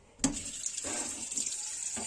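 Tap water runs steadily over a freshly sponge-scrubbed metal ladle in a kitchen sink, a continuous close splashing rinse with slight shifts as the ladle moves under the stream.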